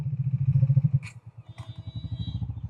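Close motorcycle engine idling and chugging in a rapid rhythmic putter, with a couple of brief metallic clicks.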